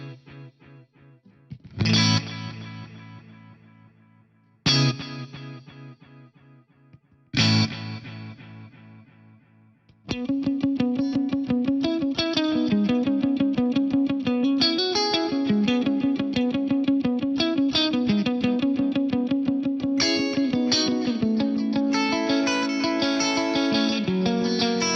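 Electric guitar through a Digitech Studio Quad v2 rack unit with delay and reverb in parallel: three struck chords ring out and decay into long tails, then a loud, steady strummed rhythmic passage continues alone.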